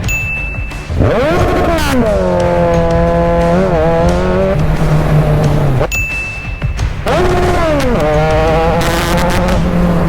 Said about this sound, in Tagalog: Grabe, napakabilis. Kawasaki Z1000R.